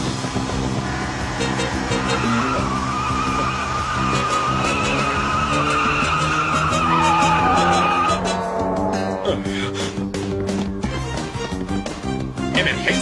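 A stolen car pulls away with long, screeching tire skids that run for several seconds over a steady engine roar, loud and close, amid a dramatic action scene in the Power Rangers series.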